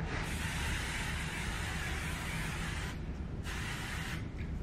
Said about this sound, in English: I wanted to spray a little dry oil from that same line